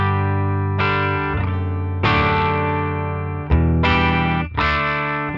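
Electric guitar played through the NUX Trident's Twin Reverb amp model, ringing out a series of loud, sustained strummed chords with a few fresh attacks, no voices.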